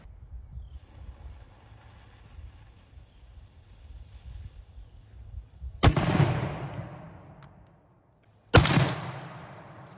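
A small cannon fires canister shot at a target armored with fascines in a recreation of the Battle of Valcour Island, giving two loud, sharp blasts a few seconds apart, each trailing off in a long rolling echo outdoors.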